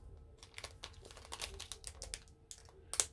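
Plastic package being cut open, a Temu haul item, with a run of quiet crinkling, snipping and rustling bursts close by, ending in a sharper crackle.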